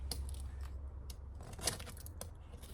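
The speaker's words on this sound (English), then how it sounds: "We cut it open very carefully." Scissors or a blade snip through the packaging of a SXTH Element intake box in a few quiet, close, careful cuts against a low background hum.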